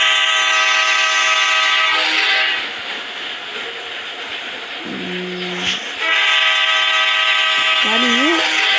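A large train runs steadily in a 3D railway video game, its continuous rumble with harmonic tones broken by a quieter stretch midway and a brief rising horn-like tone near the end, under background talk.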